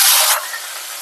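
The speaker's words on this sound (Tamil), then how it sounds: "இப்ப வெங்காயம் சேர்த்துக்கிறேன்" Onion hitting hot oil already crackling with mustard seeds and cumin, a loud bright sizzle that bursts up at once and then settles into a steadier, softer fry.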